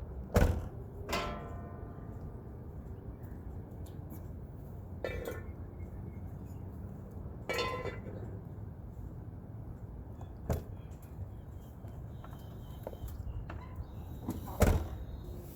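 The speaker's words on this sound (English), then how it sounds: "close the door." A Class A truck's cab door swings shut with a solid thud, set among several other clunks and bumps against a steady low outdoor rumble.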